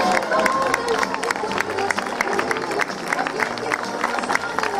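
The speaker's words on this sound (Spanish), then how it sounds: "Un fuerte aplauso" Steady applause from an audience at a fashion show of 1960s models, dense clapping mixed with murmuring voices, loud and continuous throughout.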